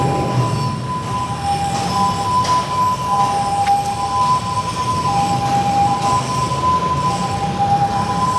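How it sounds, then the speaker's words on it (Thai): A siren wails steadily in the distance, its tone holding and shifting over a constant rumble of traffic or rail noise for the whole stretch. "เสียงรถหวอมา"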